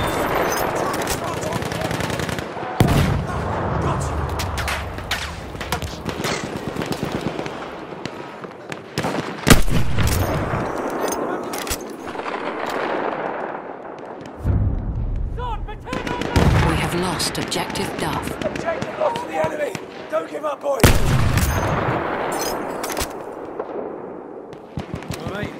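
Sustained machine gun fire and scattered explosions in the World War I shooter game Battlefield 1, loud and near, in dense overlapping bursts with brief lulls, with shouted voices mixed in.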